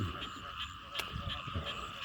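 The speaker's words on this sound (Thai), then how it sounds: "เสียงกบเสียงเขียดร้องนะครับ" Frogs croak in a steady, overlapping chorus with a continuous high calling drone, heard alone at moderate distance with no talking.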